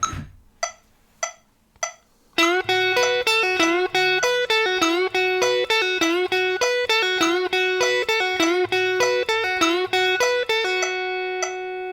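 A few sharp metronome clicks at 100 beats per minute count in, then a quick, even run of picked rock guitar notes plays along in steady rhythm, ending on a ringing note.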